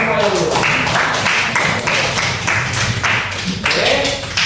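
Students in a classroom clap together at the end of a lesson, rhythmic, fairly loud claps in regular bursts with voices talking and calling out underneath.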